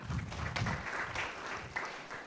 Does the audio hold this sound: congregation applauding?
yes